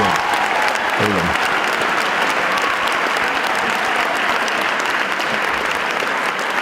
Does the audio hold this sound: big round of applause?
yes